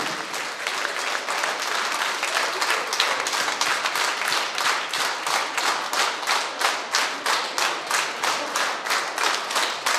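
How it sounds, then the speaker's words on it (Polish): A standing ovation from an audience at a year-end artistic gala fills the air with dense, sustained applause, rhythmic clapping surges pulsing steadily throughout, loud and close with no talk. "Oklaski na stojąco."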